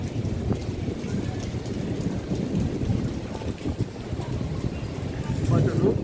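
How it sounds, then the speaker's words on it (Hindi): Heavy rain in Makkah pours down in a dense, continuous roar with low rumbling underneath, steady throughout, with no clear talking. "आप ये नज़ारा देख सकते हो माशाल्लाह क्या बारिश गिर रहा है"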